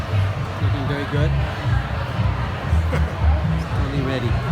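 Crowd filing in before an evening Saint Patrick's Day show, a steady murmur of many voices and shuffling with occasional faint thuds, continuous and moderately loud throughout.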